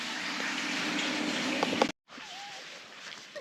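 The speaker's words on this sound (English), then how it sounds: "I can do my washing up now." Tap water runs steadily at a campsite while dishes are washed up, a continuous splashing hiss that briefly cuts out and then resumes more softly with faint clinks.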